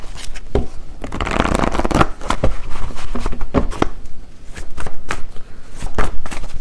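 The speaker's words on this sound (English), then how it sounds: "let me get a few more cards" Tarot cards being shuffled up close, a loud continuous papery riffling and flapping with sharp slaps throughout.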